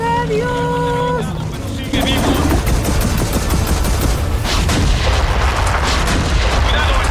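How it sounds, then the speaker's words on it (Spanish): Gunfire and explosions in the shooter game Gears of War 4: loud, dense bursts of shots and booming blasts that follow a brief tonal game sound, with voices speaking over the battle. "¡Cuidado! ¡Están disparando!"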